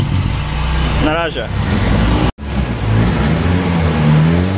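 Boat engines rumble as the boat pulls away on a trip in the Philippines, a loud, steady low drone that runs throughout under brief talk.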